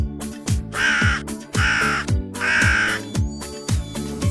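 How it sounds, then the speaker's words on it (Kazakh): A crow caws loudly and harshly, three drawn-out calls in a row with short gaps, set over a rhythmic music backing with a steady beat. "Қарға."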